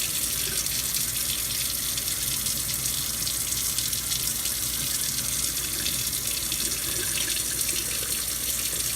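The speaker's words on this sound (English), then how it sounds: "So we'll give those a rinse." A broad, steady rush of tap water pours over broccoli sprouts in a sink, loud and continuous with no pauses.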